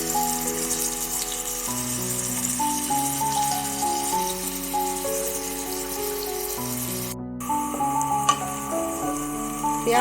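Onions cooking in a pan for gobi gosht, softening toward light pink, give a steady, fairly quiet sizzle under a constant musical backing that runs throughout.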